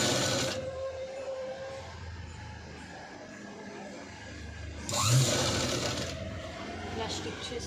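A sewing machine stitches along a folded blouse border with lining, running as a steady continuous whir with a louder burst partway through, under ongoing background noise and a speaking voice.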